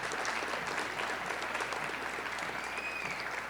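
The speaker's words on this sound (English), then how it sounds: "Let's have a big round of applause for the SNHS induction class of" An audience applauds the new Science National Honor Society induction class at a high school ceremony, with steady, moderately loud clapping continuing throughout.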